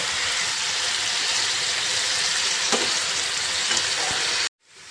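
Flat beans sautéing in a pan with dry red chilli, cumin, garlic and chopped onion give a steady, loud, close sizzle with faint stirring scrapes, cutting off abruptly near the end.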